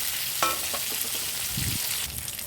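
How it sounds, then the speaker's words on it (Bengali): Mutton fat rubbed with salt and turmeric fries lightly in a pan with a soft, steady sizzle, broken by a few brief scraping stirs. "চর্বিখান তো প্রথমে ধুইয়া টুইয়া তারপরে লবণ হলুদ মাখিয়া এখানে অল্প মুই হালকা করে ভাজি নিন"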